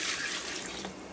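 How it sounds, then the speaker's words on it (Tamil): Water pours steadily into a pot of mutton cooking in coconut milk, a continuous close splashing stream lasting about a second. "இப்போ கொஞ்சம் தண்ணி சேர்த்துக்கலாம்"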